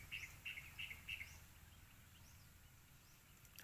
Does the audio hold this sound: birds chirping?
yes